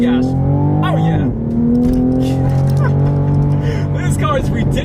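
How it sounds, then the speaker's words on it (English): A 2020 Toyota Supra accelerates hard on an open straightaway, its engine climbing through the revs in several loud rising sweeps with a brief drop at each gearshift, while a driver speaks over the engine noise. "let's see how quickly we can get this new 2020 Supra here up to speed"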